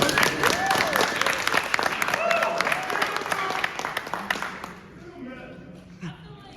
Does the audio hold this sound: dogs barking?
no